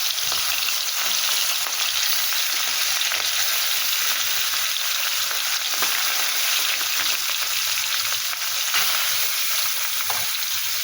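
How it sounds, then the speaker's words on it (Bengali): Pieces of rohu-type fish frying in hot oil in a wok, a loud continuous sizzle and crackle with faint stirring, steady throughout with no talk. "এই মাছগুলো তেলের মধ্যে দিয়ে দিলাম।"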